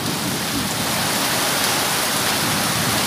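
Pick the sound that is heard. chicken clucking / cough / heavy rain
heavy rain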